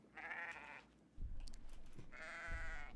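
Two separate sheep bleats from a Minecraft-style horror game, one early and one late, with soft thumps and shuffling in between, at a low level and with no speech.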